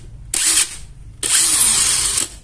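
A Kamolee DTW 700NM impact wrench powered by a Samsung battery fires off two bursts, a short whirring spin followed by a longer, louder high-pitched run, close and alone.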